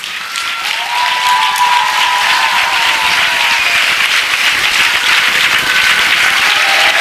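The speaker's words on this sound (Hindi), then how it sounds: "आइए हम खड़े हो जाएंगे, खड़े होके उसके लिए ताली बजाएंगे" A church congregation at a Christian worship service stands and applauds, a loud, sustained wash of many hands clapping that fills the space continuously from start to finish.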